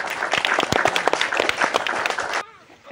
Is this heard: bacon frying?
no